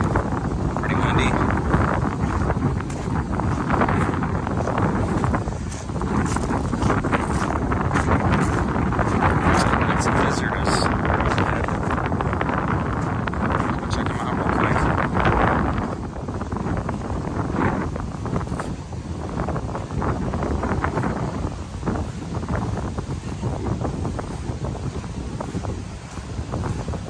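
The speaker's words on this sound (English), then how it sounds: "Pretty windy." Strong wind gusting across a sunny black sand beach, a loud continuous roar of buffeting microphone noise that rises and falls for the whole stretch.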